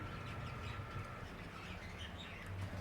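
Budgerigars chirping together in a colony cage set up above a shop, a faint busy chatter of many small birds with scattered tweets and occasional wing flutters.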